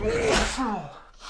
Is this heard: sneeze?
yes